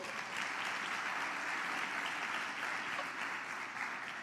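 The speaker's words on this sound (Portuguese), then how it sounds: "Você pode dar um aplauso a Jesus?" Church congregation giving a sustained round of applause for Jesus during a worship service, a thick, continuous wash of many clapping hands with no pauses.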